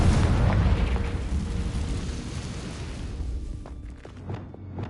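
A Confringo blasting spell bursts in Hogwarts Legacy with a loud, broad explosive boom at the start, then a rumbling tail that fades over several seconds, with faint small pops near the end.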